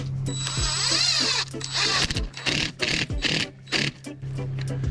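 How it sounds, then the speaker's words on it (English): Ice studs being screwed into the rubber tracks of an excavator, a close run of ratcheting clicks and whirring driver bursts broken by short pauses, with no one talking. "you just screw them straight into the tracks and we'll see what happens."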